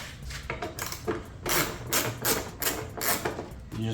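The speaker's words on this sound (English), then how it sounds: "using a socket wrench," A socket wrench working 10 mm bolts loose from the fender of a 2022 Genesis G70 gives off a run of close, sharp metallic ratchet clicks in bursts, with no voices over it.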